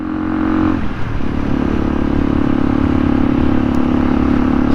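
A Kawasaki KLE500 adventure motorcycle is ridden on the road, its engine droning loud and steady with a brief dip in pitch as it shifts, then settling back into a constant hum.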